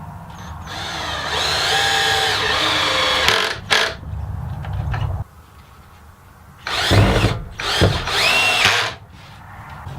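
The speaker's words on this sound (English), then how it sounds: "Now I can tip it up and screw the other side on." Power drill driving screws into the side of a reclaimed wooden crate being built into a toybox: several close, loud whirring bursts of the drill with short pauses and handling clatter between them.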